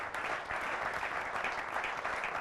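A congregation applauds during a church gathering, a continuous wash of clapping that holds at a moderate, fairly distant level throughout without voices.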